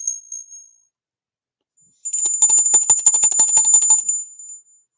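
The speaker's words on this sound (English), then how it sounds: "Every one of these bells has a different sound." A small handheld bell rings with a short ding first, then after a pause a rapid, bright jingling trill of about two seconds, close and loud with no talk.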